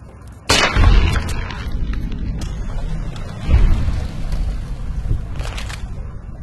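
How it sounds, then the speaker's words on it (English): Sharp BB gun shots fired at a radroach in the video game Fallout: New Vegas, two distinct loud pops with a faint third, each trailing into a rumbling ambient bed. "Careful, it's a radroach. Think you can take care of that with your BB gun? Just aim and shoot."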